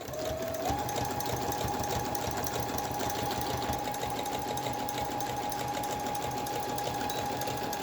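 A sewing machine runs steadily, stitching the hem of a cloth face mask with a fast, even mechanical whir and rapid needle patter, close and continuous throughout.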